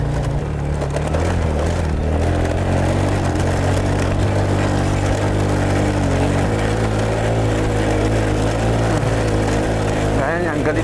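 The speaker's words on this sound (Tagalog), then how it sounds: "galit yung makina pag nagkaroon ng momentum" A vehicle engine labors under load on a steep mountain road between Kibungan, Benguet and Alilem, Ilocos Sur, a steady low drone that stays loud and continuous throughout, with a voice talking over it.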